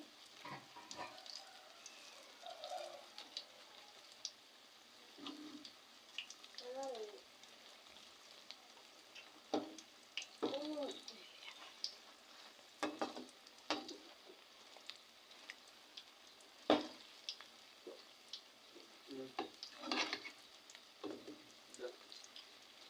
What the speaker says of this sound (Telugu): అన్నీ అలాగే తిప్పుకొని కాల్చుకుందామండి రెండో వైపు కూడా